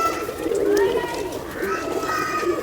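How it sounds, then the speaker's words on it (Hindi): A large, long-kept domestic pigeon coos nearby in repeated low throaty phrases, with people talking over it. "ये बड़ा कबूतर है या पट्ठा ही है घर का?"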